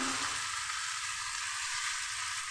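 Chicken sautés in a pan over low-medium heat, giving a steady, close, dense sizzle and crackle that runs evenly throughout with no voices.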